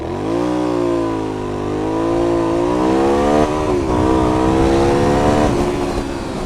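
An Aprilia Shiver motorcycle in sport mode launches hard from a standstill, its engine note climbing loudly through the revs with a brief dip at a gear change before pulling strongly again, close and steady with no talk.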